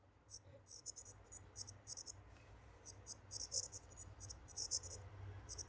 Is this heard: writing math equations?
yes